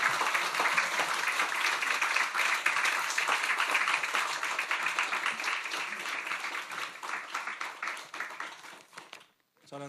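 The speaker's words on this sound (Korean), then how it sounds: "우리 목사님 나오실 때 할렐루야 박수로 환영하겠습니다." A church congregation claps to welcome a visiting pastor to the pulpit at a Sunday worship service, sustained dense applause that fades and stops near the end.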